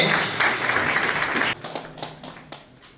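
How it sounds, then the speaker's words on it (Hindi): Audience applause at an award ceremony, dense clapping for about a second and a half that then thins into scattered, separate claps trailing off. "तालियां रुकनी नहीं चाहिए।"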